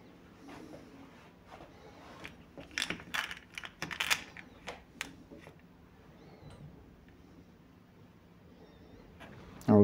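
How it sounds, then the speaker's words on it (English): Small steel ball bearings dropped one by one into the cup of a bicycle cup and cone hub during an overhaul, giving quiet metallic clicks and ticks in an irregular cluster at close range, with no talking. "I'm taking the bearing bolts and putting them inside"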